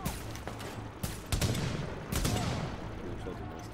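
Bursts of gunfire in The Division video game, several loud sharp shots and a rattling volley over a steady noisy background, close and intense.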